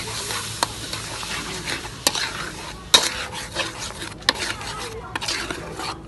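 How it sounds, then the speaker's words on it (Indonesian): Ground spice paste mixed with shrimp paste stir-fries in a hot pan, with a continuous sizzle under sharp, irregular clacks and scrapes of a spatula against the metal, close up and without speech. "Langsung ditumis."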